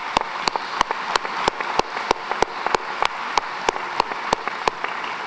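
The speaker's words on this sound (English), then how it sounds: "Let's give yourselves a round of applause." Sparse, slow clapping at a high school graduation ceremony, roughly a dozen distinct claps spaced about half a second apart over a quiet background, sounding like a few people rather than a full crowd.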